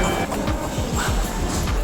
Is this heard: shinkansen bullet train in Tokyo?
yes